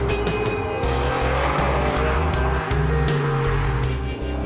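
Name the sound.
Pagani Zonda supercar engine driving at speed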